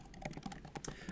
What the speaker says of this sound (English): Sorry, I know typing is annoying.